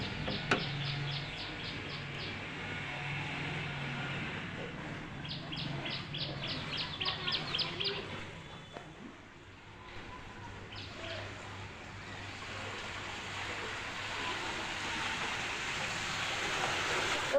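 Rain falls outside as a steady, continuous hiss, with bursts of repeated bird chirps over it near the start and middle.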